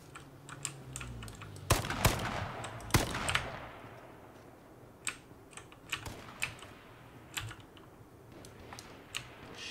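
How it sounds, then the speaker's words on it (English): Scattered gunshots in the survival game H1Z1 crack out at irregular intervals, a few sharp loud bangs early followed by quieter, more distant reports, mixed with keyboard clicking and no talk. "shots are coming from everywhere"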